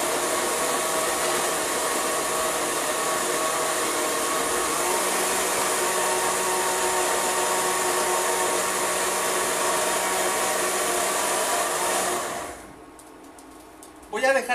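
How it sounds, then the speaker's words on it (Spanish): A blender grinds tortilla soup base in a long, steady, loud whir that runs for about twelve seconds before cutting off abruptly. "Voy a dejar a medio moler la sopa"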